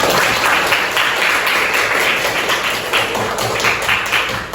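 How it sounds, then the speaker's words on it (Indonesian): A classroom of middle school students applauds a classmate, a dense, loud burst of clapping from many hands that carries steadily throughout and close by. "Oke, beri aplaus dulu untuk temannya."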